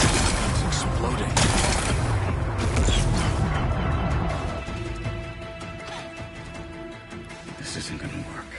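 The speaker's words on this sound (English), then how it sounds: "Gotta blast away some rocks, so I can expose the power cell." Loud rumbling blasts and crashing debris from rocks being blown apart in a video game, a dense booming roar that fades into a lower clattering tail, with a voice talking over it.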